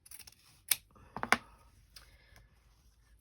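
Scissors snip through ribbon folded in half for a fabric-covered Christmas journal closure, giving a few close, sharp clicks and cuts in quick succession within quiet surroundings.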